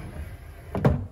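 A barn-style sliding door on a crib-set wardrobe rolls open in one short, fairly close rumbling slide that ends with a soft bump, after a quiet room background.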